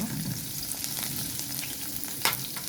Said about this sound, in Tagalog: Habang nagluluto tayo ng onion